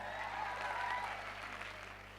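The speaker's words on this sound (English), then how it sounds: "Let's give a big round of applause for the team." After a law department's staging of Julius Caesar, the audience gives the team a round of applause, heard as a faint, distant wash of clapping over a steady low electrical hum.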